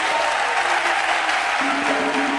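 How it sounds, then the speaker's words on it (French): A church congregation claps loudly for Jesus Christ, a dense, continuous wash of applause from many hands that fills the whole moment without letting up. "Acclamez pour Jésus-Christ"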